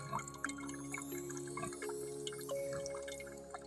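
A weak trickle of tap water running into a pig's drinking trough on a farm, a thin steady dribble with faint splashes, heard alone at low level.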